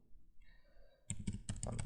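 A short burst of rapid clicking computer keyboard keystrokes starts after a quiet moment, close and faint, with a soft tone fading underneath.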